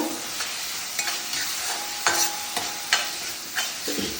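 Chopped tomatoes stirred into a sizzling pan, a steady hiss with repeated spoon scrapes and knocks about every half second, close up and with no voices.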